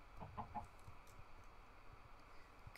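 Chicken clucks from a farm-animal video game, short soft calls near the start over a steady low background hum, no talk.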